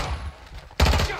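Burst of gunfire in Call of Duty Modern Warfare 2, with a quieter stretch of shots followed by a sudden loud close volley of rapid automatic fire.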